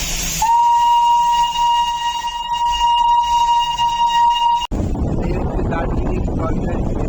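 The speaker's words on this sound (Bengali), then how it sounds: "Darjeeling toy train." Darjeeling heritage toy train sounding a long, steady, piercing whistle for about four seconds near the station, with wind buffeting the microphone, then an abrupt cut to broadband road and wind noise.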